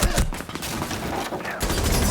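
A burst of rapid gunfire and wall-penetrating shots in a competitive Rainbow Six Siege match, loud dense cracks with brief gaps, close and dominating the mix.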